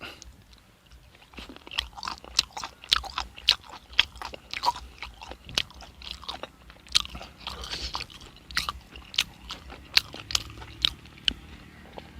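Crunchy bites and steady chewing of grilled pork intestine sausage dipped in a three-flavor sauce, close and fairly loud, with repeated irregular bites across the whole stretch and no talk.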